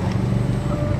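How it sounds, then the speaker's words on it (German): A Volvo car passes close by on a street corner in Göttingen, a brief steady road and engine rush with no clear start or finish. "Einen schönen Volvo."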